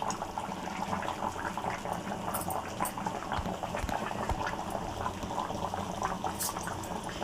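A pot of Nellore-style fish and raw mango curry simmers at a rolling boil, giving a continuous bubbling, gurgling sound that is close and steady and carries on throughout with no talk over it.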